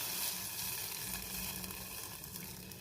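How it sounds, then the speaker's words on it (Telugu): Tamarind rasam for a toor dal charu is poured into a hot pan and sizzles in a steady, dense hiss that fades slightly over about three seconds, with no talking. "ఇప్పుడు ఇవన్నీ కలుపుకొని ఇప్పుడు చింతపండు చారు పోసుకోవాలి"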